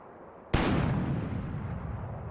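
A cannon fires in the adventure video game The Book of Unwritten Tales: one sudden loud boom that rolls on into a long, rumbling tail.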